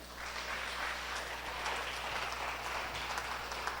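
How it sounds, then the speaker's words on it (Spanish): A church congregation applauds in a steady, even wash of clapping that sounds almost like rain, fairly quiet and distant over a low hum, with no talk. "Den un aplauso al Señor, pues."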